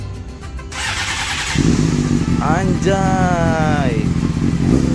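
A Honda CBR 600 motorcycle engine starts up in a garage and settles into a loud, steady idle with a couple of quick revs, while people talk and exclaim over it.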